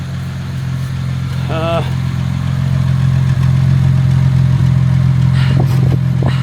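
Jaguar MKII car engine idling with a steady, loud, close hum that builds slightly as it is revved, a brief voice cutting in early on and some clatter near the end.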